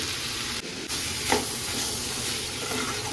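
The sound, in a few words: boiled chickpeas sizzling as they are stirred in a pan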